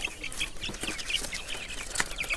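Several chickens cluck and chatter nearby in a busy, irregular stream of short calls.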